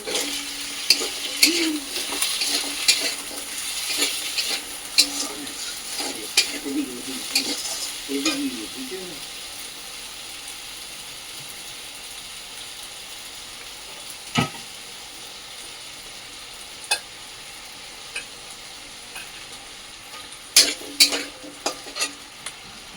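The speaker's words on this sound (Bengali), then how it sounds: "কষিয়ে নেব মশলাটা হালকা কষিয়ে নিয়ে" Spice paste sautéed and stirred in a pan, with scraping and a light sizzle that are busy for the first several seconds, then a quiet stretch broken by occasional utensil knocks, and a few sharper clacks near the end.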